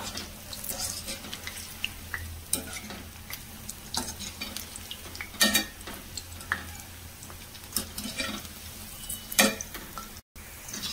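Veg cabbage Manchurian balls deep frying in a pan of oil, a steady close sizzle broken by scattered sharp clinks and scrapes of a spoon turning them.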